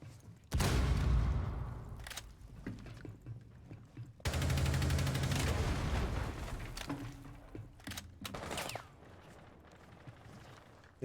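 Bursts of rapid gunfire in Rainbow Six crackle in two long volleys, with scattered single shots and pauses between them, fairly loud and close.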